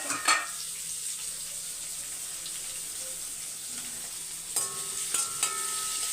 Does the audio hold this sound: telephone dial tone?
no